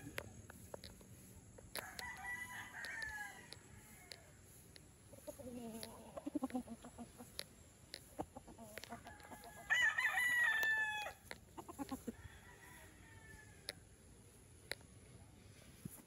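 Kelso gamefowl roosters and chickens on a hillside farm, with a clear rooster crow standing out mid-way, scattered clucks and other distant crows around it, plus occasional sharp ticks over a quiet background.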